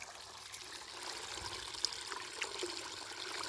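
Freshly picked okra being washed in water in a village setting: a faint, steady trickle and light sloshing with a couple of small splashy clicks, quiet and continuous, no talking.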